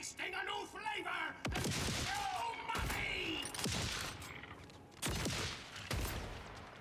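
Shots from a legendary gun in Borderlands 4, several loud sharp blasts spaced irregularly with ringing tails, someone talking over the firing.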